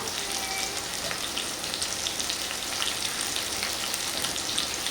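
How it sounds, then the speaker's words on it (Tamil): Onions sautéing in oil give off a constant, soft crackling sizzle, even and close, with no talk over it. "நல்லா அந்த வெங்காயம் வதங்க நல்லா வாசனை வரும்"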